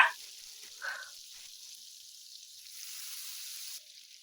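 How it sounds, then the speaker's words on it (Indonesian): Margarine melting in a hot pan for croquette wrappers, a faint steady hiss of sizzling after a brief clink at the start, quiet and close with no talking. "ini aku panaskan margarin, aku mau buat kulit kroketnya teman-teman."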